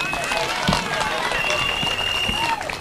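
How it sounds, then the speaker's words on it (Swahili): A crowd at a Raila Odinga political rally in Kibra, Nairobi claps and cheers in a dense, continuous wash of applause, with a voice talking over it. "Simpigie mzee makofi"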